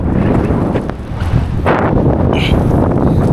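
Strong typhoon wind roars and buffets continuously across the microphone, a loud, rough rushing with brief gusty dips and swells.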